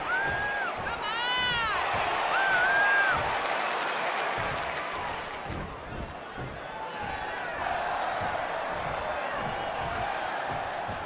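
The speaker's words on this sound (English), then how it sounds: "This crowd obviously wants to know what's going on." A wrestling arena crowd at a televised Raw event murmurs and cheers steadily throughout, a broad continuous roar with scattered shouts and occasional whistles, under commentary.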